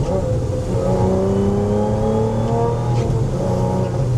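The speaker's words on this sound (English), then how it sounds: "Car is pulling really good, actually." A supercharged Audi accelerates hard on the road, its engine a loud, steady drone that climbs in pitch from inside the cabin, with a brief background voice.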